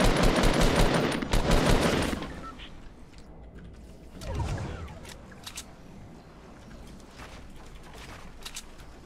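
Fortnite gunfire in a competitive tournament match, a loud dense burst of rapid shots at the start followed by continuing scattered shots and mechanical clatter at lower level.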